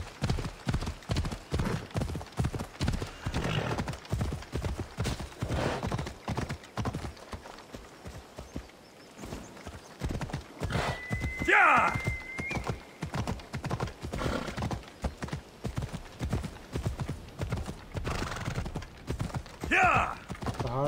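A horse's hooves clip-clop in a steady, rapid rhythm in the video game Assassin's Creed Odyssey, with occasional whinnies rising above the trotting. The hoofbeats stay close and fairly loud, slowing briefly midway before picking up again.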